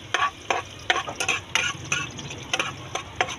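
Garlic fries in hot oil in a wok under a soft sizzle, broken by quick, rhythmic metal scrapes and clinks from stirring. No one speaks.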